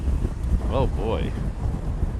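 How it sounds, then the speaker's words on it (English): Strong wind buffets the microphone at Honolulu airport with a steady low roar, while someone speaks briefly over it. "The wind is getting horrible now."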